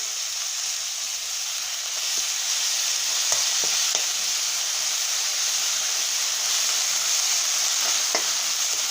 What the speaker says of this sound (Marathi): त्यानंतर पुदिना बारीक चिरून घालायचा आहे।